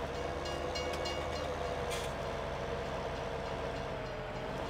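A train rolls along the tracks in Farming Simulator 2017, a steady rumble of rail cars that holds at a moderate level, with no talk over it.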